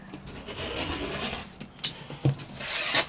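A rotary blade slicing along a ruler through quilted potholder fabric, heard as soft continuous rubbing and rasping with a few brief scrapes and a louder hiss near the end.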